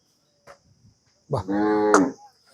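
A cow at a Kangeyam cattle market in Kannapuram gives one loud, close moo of about a second after a brief faint knock, with quiet surroundings otherwise.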